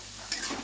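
Masala stirred and fried in a pan for a Bengali chicken and taro curry: a short scrape of the spoon over a soft, steady sizzle, close and fairly quiet.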